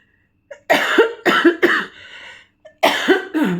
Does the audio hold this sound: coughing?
yes